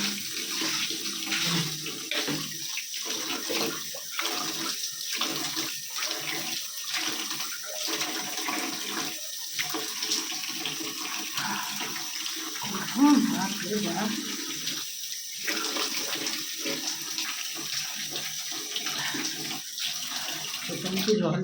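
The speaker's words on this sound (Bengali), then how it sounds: "চোখে মুখে জল দিয়ে তবে শান্তি।" Running tap water splashes in a steady, close stream while someone rinses their face, with a few louder splashes and faint talk in the background throughout.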